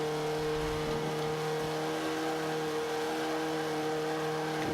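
A turbocharged engine in an Xbow race car in Forza 5 drones steadily under acceleration, a loud sustained whine with a constant pitch and no gear changes or voices across the few seconds.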